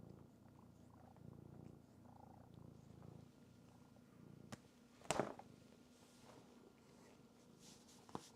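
A cat purrs softly and steadily close by, with faint scuffs and a brief sharp knock partway through, no speech.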